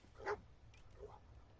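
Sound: dog barking in the video game Fallout 4

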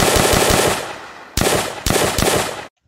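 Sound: full-auto M1 carbine gunfire in an Unreal Engine zombies video game

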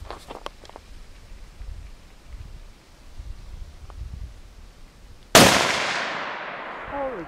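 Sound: gunshot fired at a can, more powerful than a shotgun

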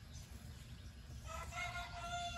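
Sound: chickens clucking and crowing

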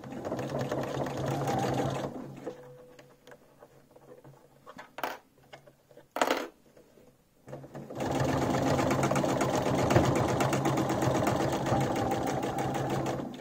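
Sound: sewing machine sewing seam

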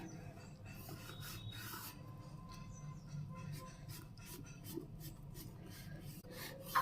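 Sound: knife cutting hot sesame chikki into pieces

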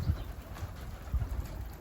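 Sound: pigeons in a coop

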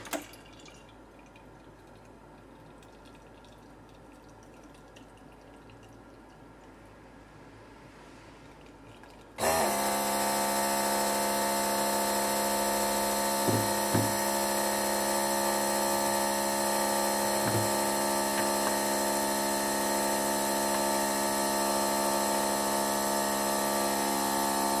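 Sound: pouring a pint of beer from a Perfect Draft machine

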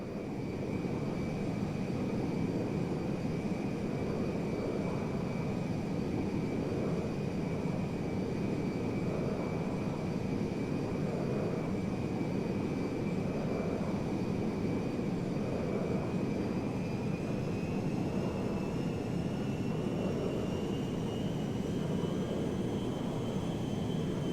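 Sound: cargo jet flying in video game Grand Theft Auto V

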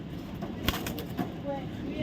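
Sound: pigeons cooing

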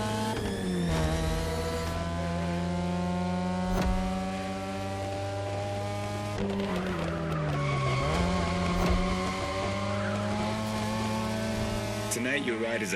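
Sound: car tires skidding in The Crew Motorfest video game

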